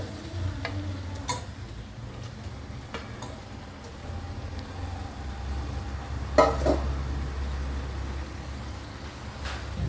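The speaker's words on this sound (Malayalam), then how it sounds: "നമുക്കിത് നന്നായിട്ട് മിക്സ് ചെയ്തെടുക്കണം. മസാലയും ചിക്കനും കൂടി കോട്ട് ചെയ്യുന്ന വിധത്തിൽ നന്നായിട്ടാണ്ട് മിക്സ് ചെയ്തെടുക്കാം." Fried chicken is stirred into biryani masala in a pan, giving a low background sizzle with occasional clicks and scrapes of a utensil and one louder clatter near the end, close and without speech.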